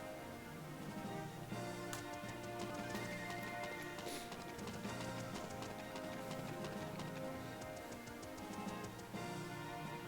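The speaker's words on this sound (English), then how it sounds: "Okay, that's a lot of horses." Horse hooves clip-clopping in the video game Tear Ring Saga, a steady run of rapid ticking hoof beats over continuous game music for about ten seconds.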